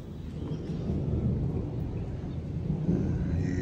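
Rain falls outside on an apartment balcony, a dense low steady rush with deep rumbling undertones, continuous and fairly loud with no voices.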